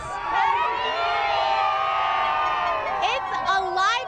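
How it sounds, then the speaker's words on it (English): A rowdy New Year's Eve crowd at Caesars Palace in Las Vegas, a dense, steady roar of many voices with whoops and shouts rising over it, loud and continuous throughout. "It's a lively crowd at Caesars Palace. These people are rowdy."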